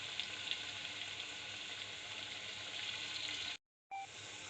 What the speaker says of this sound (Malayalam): ഇത് നല്ലോണം ഈ എണ്ണയിൽ കിടന്ന് മൂത്ത് വരട്ടെ